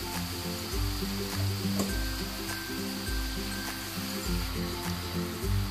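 Minced meat sizzles and crackles steadily in a frying pan, close and fairly quiet, with the soft scrape of stirring and a faint background hum throughout.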